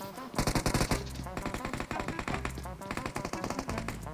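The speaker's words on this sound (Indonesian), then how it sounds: "Ilut malah nembakin gue tuh" Rapid bursts of automatic gunfire crackle loudly through a PUBG Mobile match, several rattling volleys in quick succession.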